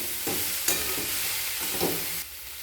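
Green peas, grated coconut and cashews stirred in a sizzling pan for vegetable masur dal, a steady frying hiss with a few soft spatula scrapes, close and alone.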